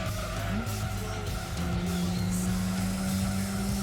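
A BTCC race car in Gran Turismo 2 roars at full throttle through a tunnel, its engine holding a loud, steady drone with a rising pitch and brief tire squeal throughout.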